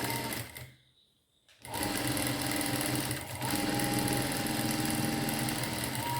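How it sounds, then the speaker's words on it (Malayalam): A sewing machine stitches a seam with a close, loud, rapid mechanical whir, briefly stopping after the first second before running steadily again to the end. "അതായത് തയ്യൽ തുമ്പ് ഇങ്ങോട്ട് തിരിച്ചിട്ട് ഒരു തയ്യലൂടെ വെക്കും"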